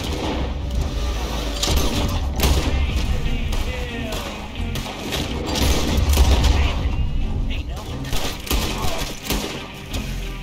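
Gunfire from Red Dead Redemption 2 gameplay crackles in repeated, loud bursts and booming shots across the stretch, mixed with game noise and someone speaking.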